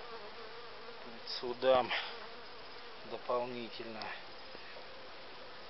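Honeybees from local colonies buzz steadily around hives at an apiary in May, a close, continuous drone under a voice talking in short bursts.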